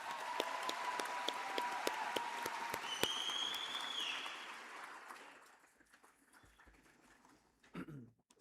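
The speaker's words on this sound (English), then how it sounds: "You can give them a round of applause if you want to." A college convocation audience applauds in a broad, steady wash of clapping that fades out after about five seconds. Faint tonal sounds rise over it midway, and a few scattered claps and knocks follow in the near-quiet.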